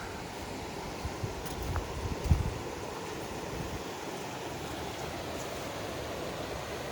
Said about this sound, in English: Come around here and take a look at this little waterfall.